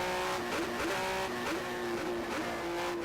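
Race car engine in the rFactor racing game, revving up and down as the throttle is feathered in a steady rhythm, a loud continuous whine with repeated pitch rises and dips, heard alone without talk.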